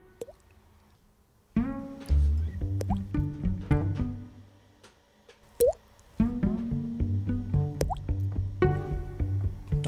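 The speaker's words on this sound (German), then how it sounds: "Da tropft's." Water drips indoors in a shared flat, a series of separate wet plops and drops with irregular spacing, close and fairly clear, with quiet gaps between bursts.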